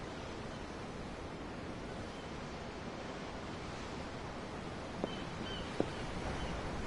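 Steady ocean waves wash and lap in the Tales of Arise video game, a broad, even hiss of surf with faint wind running throughout and two brief soft ticks near the end.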